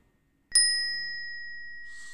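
A single bright bell ding for a subscribe-button notification effect, struck cleanly out of silence and ringing with a long, steady decaying tone, alone with no talk.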